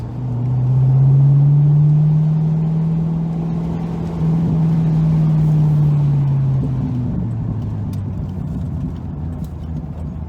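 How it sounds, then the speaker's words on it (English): Chevrolet C5 Corvette cruising with the roof panel removed, a steady low engine drone with heavy wind rush filling the cabin, loud and continuous throughout. "It is violent inside this car without the top on."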